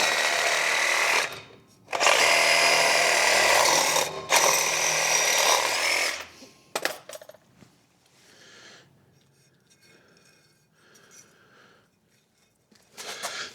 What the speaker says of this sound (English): this tip doesn't fit in the garage anymore, so I'm just gonna cut it off